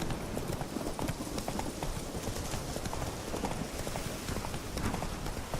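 Roach, a horse in The Witcher 3, trots with steady, rapid clip-clop hoofbeats, continuous and close, with a busy ambient backdrop.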